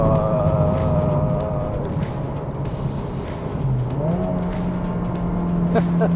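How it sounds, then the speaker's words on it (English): A Honda Civic Type R engine revs steadily from inside the cabin, its tone holding level, then climbing again as the rev-match function blips the throttle. A faint voice sits beneath the engine noise. "that rev match function just makes you feel like a driving god. I mean, listen to this, hear this."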